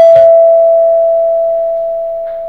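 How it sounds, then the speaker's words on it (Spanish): A doorbell in a home sounds a single loud, sustained electronic tone that holds steadily and fades slowly, with a brief clatter at the start and a faint sound near the end. "tu timbre nunca deja de sonar"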